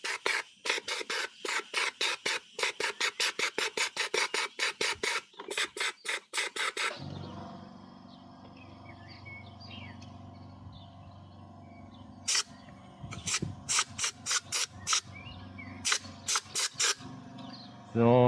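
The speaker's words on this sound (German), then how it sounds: "sprühe ich so lange Wasser durch, bis das, was rauskommt, klar ist" A BGS spray gun flushes water in rapid, rhythmic bursts of hissing spray, pausing while a compressor drones steadily, then resuming in short stuttering blasts up close.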